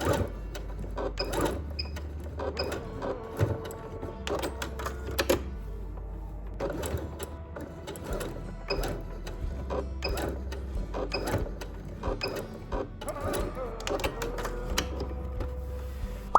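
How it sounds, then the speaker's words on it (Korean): A sewing machine stitches a label onto the inner facing of a draped boat-neck dolman top, its needle chattering in short rapid bursts with brief pauses between runs, close and steady with a low motor hum underneath. "라벨의 양쪽을 재봉틀로 고정해줄게요."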